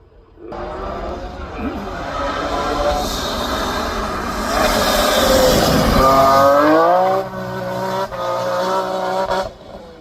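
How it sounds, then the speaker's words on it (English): BMW M3 race cars climb a hillclimb course, engines rising from a quiet start into a loud, sustained roar with climbing pitch and gear changes as they pass close by, while a commentator talks over them. "chased up the hill by another BMW M3"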